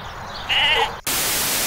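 A cartoon sheep gives a short, nasal, wavering bleat in an animated short, set against a steady hiss that jumps louder after a brief cut.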